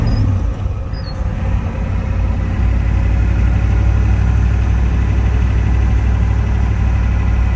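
A 1973 Ford F250 pickup drives slowly in four-wheel-drive low range, its engine droning loud and steady with a deep rumble and some vibration throughout, a couple of faint squeaks near the start.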